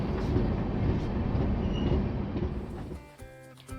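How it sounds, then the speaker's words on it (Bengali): Ranchi–Howrah Shatabdi Express running near Dhanbad, a loud continuous rumble of wheels on rails from onboard, easing slightly toward the end with faint squeal tones. "ট্রেন ধানবাদের কাছাকাছি এসে গেছে।"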